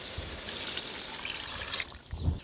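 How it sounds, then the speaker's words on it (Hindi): Water poured from a vessel into a cooking pot of browned chicken feet and spices for chicken punja pulao, a steady close trickle and splash that swells near the end. "दो माग हम इसमें पानी डाल रहे हैं"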